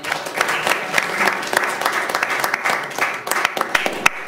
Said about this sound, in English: Let's give Ray a round of applause.